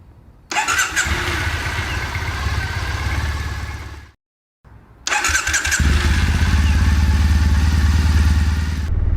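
A Triumph Bonneville motorcycle engine starts and runs with a loud, throaty exhaust, cuts out briefly, then restarts and idles steadily, close by.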